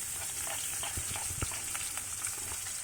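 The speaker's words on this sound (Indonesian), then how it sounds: "Tumis hingga harum dan kecoklatan." Shallots and garlic sauté in hot oil with a soft, steady sizzling hiss and faint crackles, fairly quiet and continuous, with no voices.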